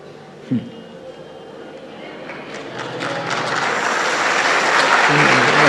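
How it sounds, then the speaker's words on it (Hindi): Audience at a Ram Katha religious discourse gathering in Prayagraj bursting into applause, a dense clapping wash that builds steadily louder over several seconds after a brief knock near the start. "आप क्यों ताली बजाते हैं?"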